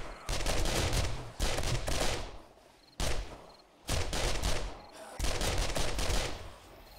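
Heavy automatic gunfire in 7 Days To Die as a horde attacks the base, loud sustained bursts of rapid shots with brief pauses between volleys.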